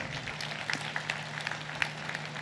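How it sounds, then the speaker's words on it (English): Audience at a medical college graduation ceremony applauding university sports teams, a soft, distant patter of many hands clapping steadily throughout. "A big round of applause to all of them."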